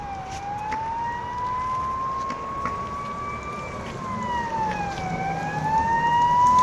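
A fire engine siren wails steadily, rising and falling in long sweeps as it arrives at a car burning outside a liquor shop in Garhi Tarkhana, fairly loud and growing closer over a rumble of road noise.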